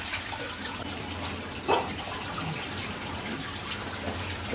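Raw chicken for barbecue is rinsed in clean water, a steady close swishing and sloshing with a brief louder splash, no talk.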